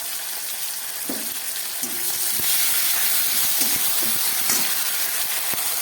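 Oil hisses and sizzles steadily in a pan as a stuffing for pointed gourd fries, made with green chili paste, cumin powder, shrimp and boiled potato. The sizzle stays close and even, with a few soft clinks.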